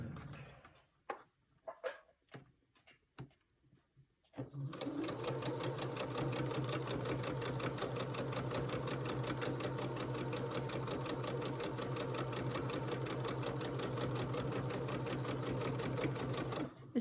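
A sewing machine stitches quilt pieces, starting after a few scattered handling knocks and then running in one loud, steady, continuous whir close by for the rest of the clip.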